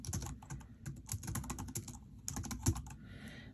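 Quick bursts of clicking keystrokes from typing on a computer keyboard, close and fairly soft, in irregular runs with short pauses, ending in a brief quiet rustle.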